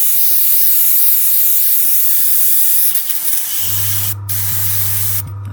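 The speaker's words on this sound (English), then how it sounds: "then I would give it a little bit of clean water, bring in a tissue, and then spray it" An airbrush is sprayed clean with water, giving a loud, steady hiss of spray for about three seconds, then quieter spraying with a low hum and brief pauses.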